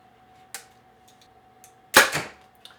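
A 2025 Hoyt RX-9 compound bow releases an arrow: a light click, then one loud, close snap of the string with a brief ringing decay, followed by a faint tick.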